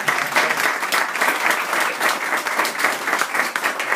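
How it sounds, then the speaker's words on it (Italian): Dense, sustained applause from a dinner audience at a chefs' cup event in Venice, welcoming the chef who cooked the menu, loud and continuous throughout. "un applauso"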